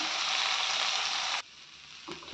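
Broad beans and grated coconut fry in a pan with a loud, steady sizzle that suddenly drops to a faint hiss, followed by a couple of quick utensil clinks.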